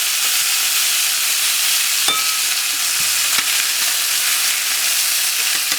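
Pieces of sumac chicken brown in a hot pan, giving a steady, loud hiss of sizzling with a few small clicks and pops, and no voices.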